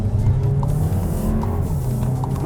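A 2022 Volkswagen Tiguan in sport mode pulls with a steady, moderately loud engine note under acceleration, a continuous cabin-heard drone with no talking.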